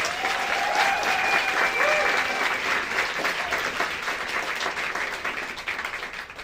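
Loud, sustained applause from a large audience at a youth ensemble holiday concert, with a couple of whistles rising above the clapping before it slowly thins out.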